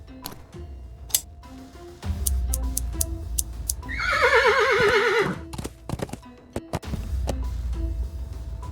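A horse in the video game Willy Morgan and the Curse of Bone Town gives one loud, wavering whinny midway, set among scattered ticks and clip-clop knocks and a low rumbling backdrop.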